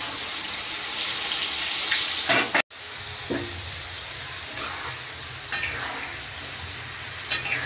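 Chickpeas frying in hot oil with leftover water on them, a loud bright sizzle and spatter that cuts off abruptly, then returns quieter with occasional sharp crackles and stirring scrapes.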